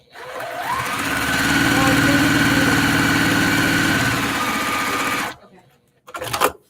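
A sewing machine stitching a quilt block runs in one long steady mechanical hum with a fast rhythmic whir for about five seconds, close and loud, then stops, followed by a brief clunk.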